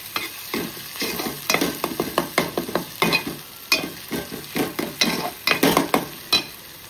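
Spices are stirred into tomato masala frying in a pan for a clam dish, with a soft continuous sizzle broken by a quick series of scraping, clattering spoon strokes close by.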